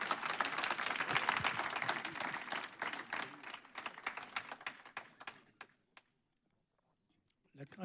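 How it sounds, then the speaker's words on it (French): An audience at a talk on advertising creativity applauds, a loud burst of many hands that thins into scattered claps and dies away to silence, with a voice briefly heard at the end. "Oh oui, on applaudit."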